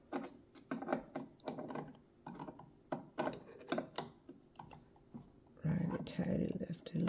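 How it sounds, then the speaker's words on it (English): Screws being driven back into a vintage Kenmore Imperial sewing machine, heard as a series of close, quiet metallic clicks and ratcheting turns in an irregular rhythm, ending in a louder burst of handling noise. "I definitely try my best not to tighten when I screw these back in."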